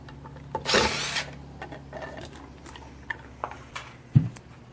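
Power driver with a torx bit backs out motor brush cover screws, giving a short whirring burst near the start followed by small clicks, taps and a sharp knock close by.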